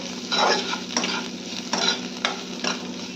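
Cauliflower leaves fry with garlic and chili in a hot pan, a close, steady sizzle broken by four or five rhythmic stirring scrapes, with no voices.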